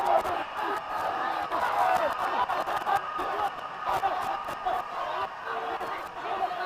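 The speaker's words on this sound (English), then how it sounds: "Loud cheer coming from the Thomian supporters on that end" Supporters of St. Thomas' College cheer from one end of the ground at a schools rugby match against Wesley College, a sustained crowd roar with scattered shouts and some laughter, mixed with nearby voices.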